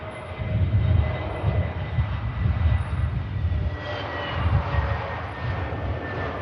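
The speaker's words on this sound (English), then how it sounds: "Silky touchdown." An airliner touches down at Manchester Airport, producing a heavy low rumble that pulses as the wheels meet the runway, then a broader rushing roar that swells as the engines spool up later, heard from a distance with no talk.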